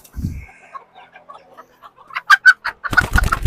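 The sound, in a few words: baby silkie chicken clucking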